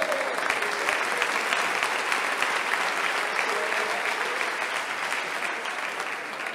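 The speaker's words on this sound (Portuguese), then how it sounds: "Jesus com as suas palmas em nome do Senhor." Church congregation clapping together in a sustained, dense round of applause at moderate loudness, with a faint voice underneath.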